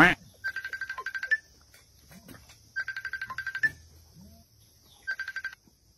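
A cellphone ringtone plays in three bursts of quick, high warbling beeps separated by pauses, each burst ending in a brighter tone, over faint background sounds and occasional thuds.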